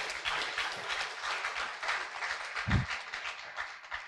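Scattered clapping from an audience at a Lagos SME bootcamp, fairly faint and distant, carrying on steadily without voices.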